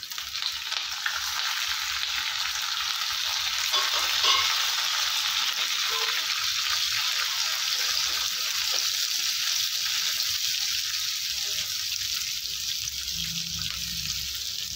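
Onion and curry leaves fry in a pan, giving a steady, close sizzle that holds evenly throughout with no talking.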